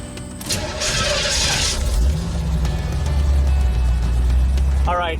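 A red 1985 Chevrolet Corvette C4 engine cranks and fires up, a loud steady low rumble running throughout with some clatter early on, heard up close with no talking.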